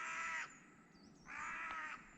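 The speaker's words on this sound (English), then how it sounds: "Alright, Mr. Crow" Two long, harsh caws from a crow, separated by a short pause, sound moderately close at a campsite, with no one talking.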